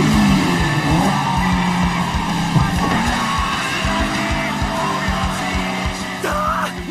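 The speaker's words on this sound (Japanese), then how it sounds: "ものすげえブレーキングドリフト。" Screeching tires from an anime mountain race, a braking drift down the difficult Akina descent with an 86 chasing, loud sustained squeal over revving engines and rapid rhythmic pulses, no talk.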